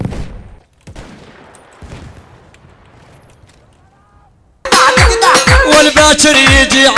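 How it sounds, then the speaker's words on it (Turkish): Battlefield 1 combat heard first as quiet scattered thuds and distant bangs, then suddenly a loud, dense burst of gunfire and explosions with rapid sharp cracks filling the last two seconds. "Of bomba atıyorlar."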